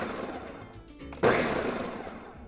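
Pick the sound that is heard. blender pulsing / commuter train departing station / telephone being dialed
blender pulsing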